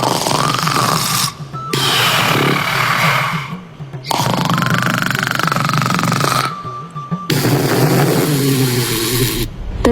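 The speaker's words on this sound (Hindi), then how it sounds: "कूलर के सामने भूकंप जितने तेज खर्राटे लेते हुए सो" A cartoon man sleeps in front of an air cooler and snores loudly, with three long, rough, rumbling snores separated by short gaps over a steady background hum.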